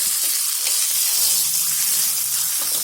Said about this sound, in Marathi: असं एक चमचा घी टाकत चांगलं हलवून घ्यायचं.